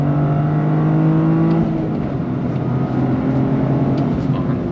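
2023 Toyota GR Corolla Circuit Edition accelerating hard on a race track, a loud steady engine drone with rising harmonics held throughout, close and continuous without speech.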